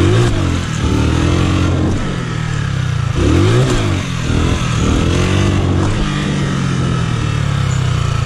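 A motorcycle engine revs hard during wheelie training, sweeping up and down in repeated strong surges, loud and close with no voices.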